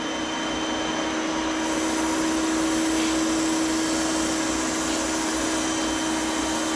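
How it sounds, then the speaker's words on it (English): A crankshaft grinder works an Austin A40 crank with coolant suds running, giving a loud, steady machine drone with a constant hum and a broad hiss held evenly throughout. "let the crank grinder just do the work basically"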